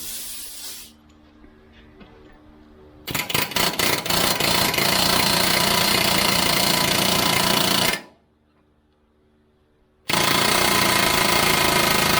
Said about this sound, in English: I'm going to pop it with air and see how stuck it is.